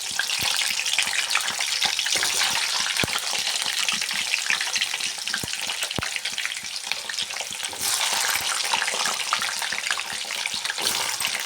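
Indian gooseberries fry in hot oil for amla pickle, giving a loud, steady sizzle with scattered sharp pops and spatters, close up and without talk.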